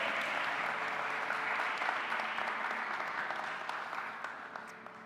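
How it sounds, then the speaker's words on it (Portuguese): A church congregation applauds during a sermon, broad continuous clapping that holds steady and then slowly fades toward the end, with no speech on top. "Aleluia, aplauda o Senhor."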